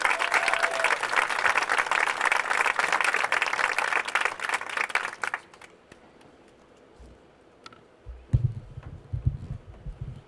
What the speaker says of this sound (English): Let's give a round of applause to our boys team.